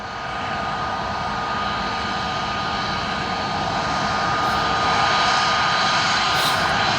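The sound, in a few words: Airbus A320 airplane at airport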